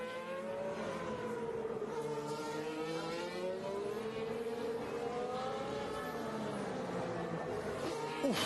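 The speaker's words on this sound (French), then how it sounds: "Fernando Alonso qui se jette ici dans le virage du camp, mais il y a carrément une marche" A high-revving Formula 1 engine whines steadily at Circuit Paul Ricard during 2021 French Grand Prix practice, its pitch rising and falling as the car accelerates and shifts gears, heard alone without talk.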